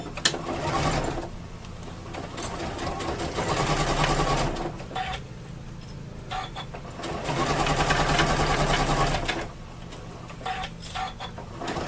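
A sewing machine runs steadily, stitching embroidery on a wire frame bag, its whirring rising in two longer, louder stretches with brief pauses and no talk.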